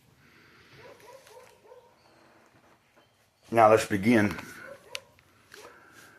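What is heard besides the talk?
dogs barking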